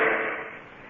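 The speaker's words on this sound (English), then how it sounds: "This is the sound of a monumental cliff hammer, weighing many tons, built to temper and shape the steel" A monumental steam hammer weighing many tons, built to temper and shape steel, strikes once with a loud, ringing clang that decays slowly over about a second.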